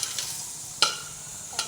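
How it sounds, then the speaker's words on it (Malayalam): Mango pieces for pickle dropped into a pan, a soft steady sizzle broken by two sharper clattering thuds as the pieces land. "ഞാൻ ഈ മാങ്ങ ഇതിനകത്തോട്ടങ്ങ് ഇടുക."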